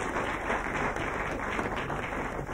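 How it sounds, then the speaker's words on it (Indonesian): Lively audience applause at an Indonesian television comedy talk show, a dense steady wash of many hands clapping at once, fairly loud and continuous throughout with no voices on top. "kita berikan tepuk tangan yang meriah sekali lagi untuk kedua pasangan ini"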